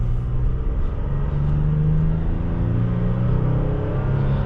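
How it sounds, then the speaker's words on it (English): A 2021 Toyota Tacoma TRD Sport 4x4 with a V6 engine revs while accelerating, a loud continuous low engine drone with rising and falling tones heard from inside the cab. "Looks like you gotta rev it up a little bit to get some of the power."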